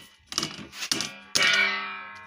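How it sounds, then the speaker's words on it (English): Caustic tipped into a stainless steel mixing bucket while making bleach gives three close, bright metallic clatters, the last one ringing out and fading slowly. "I'll pour my caustic inside."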